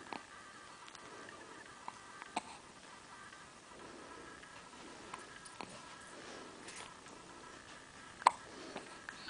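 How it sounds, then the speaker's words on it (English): A one-week-old newborn hiccuping: small, sharp, faint hiccups recur at irregular intervals over a quiet background, with a louder one near the end. "And I got the hiccups so bad."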